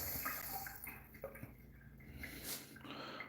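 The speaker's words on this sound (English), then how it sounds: "It's a little stream of water, but you got to make sure that these are off." A thin stream of water runs steadily from a sink faucet left on in a house, a soft continuous trickle heard close up with no talking.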